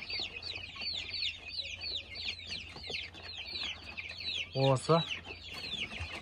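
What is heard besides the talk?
Kuchinsky Jubilee chicks cheeping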